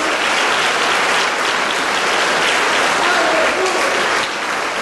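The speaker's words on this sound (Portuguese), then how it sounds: "Dê um forte aplauso ao Messias" A large crowd at a religious gathering claps steadily and loudly, the dense applause filling the space without pause, with faint voices mixed into the noise.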